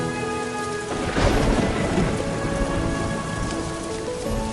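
Heavy rain at a hill village near Darjeeling, a dense steady patter with a deep thunder roll swelling after the first second and fading, and a faint steady hum underneath.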